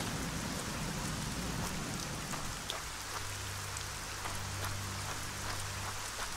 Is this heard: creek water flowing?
no